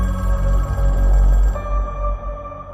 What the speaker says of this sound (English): who's going to pick up that phone?